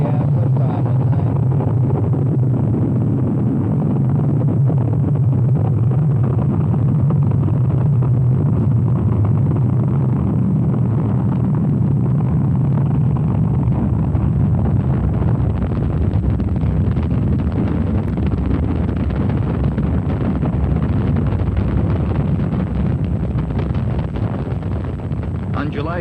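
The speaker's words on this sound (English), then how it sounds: "a huge Saturn V rocket with Apollo astronauts Neil Armstrong, Edward Aldrin Jr., and Michael Collins aboard roared skyward" Deep, sustained roar and rumble of a Saturn V rocket at the Apollo 11 liftoff, heavy low-end thunder with wind-like buffeting that persists throughout, partly under a narrator's voice.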